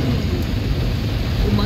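Heavy rain pours in a dense, loud, unbroken roar on an outing in Ayala, filling the whole short stretch.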